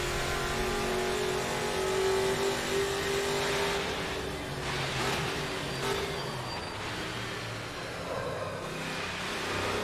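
A race car engine drones and revs continuously in the Automobilista 2 racing game played in virtual reality, loud and steady with shifting pitch as the car accelerates through corners, with no talk.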